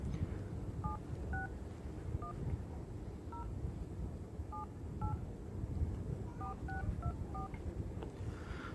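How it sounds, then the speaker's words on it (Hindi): Keypad tones of a mobile phone number being dialed, a string of short beeps in uneven bursts, some quick runs of several presses, clear and close over a steady low background hum. "ये नंबर डायल कर रहे हैं हम लोग"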